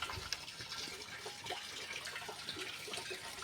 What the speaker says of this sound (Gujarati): તો ગાઈઝ આપણો ટાંકો ભરાઈ રહ્યો છે.